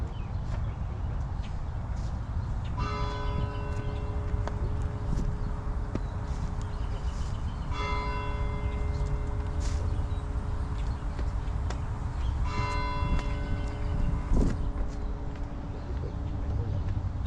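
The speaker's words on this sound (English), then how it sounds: "we ring the bell to honor the memories of these soldiers" A memorial bell at a Memorial Day service honoring war dead, struck three times at slow even intervals, each ring sustaining a long resonant tone under steady outdoor background noise.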